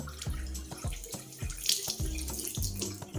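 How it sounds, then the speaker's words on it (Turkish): Hot and cold water run together from a bathroom sink faucet, an ECA mixer tap under repair, giving a steady close gush and splash into the basin with no talking. "hem sıcak hem soğuk suyu açıp burada bir e, şuradaki pisliği temizliyorum"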